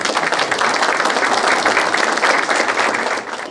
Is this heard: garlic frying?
no